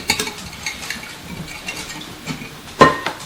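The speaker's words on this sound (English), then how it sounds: "now I'm going to mix these eggs a little, just whisk them a little" Eggs being whisked in a bowl for a brownie batter, light rapid ticking and scraping strokes with a sharper clink near the end, close and fairly quiet.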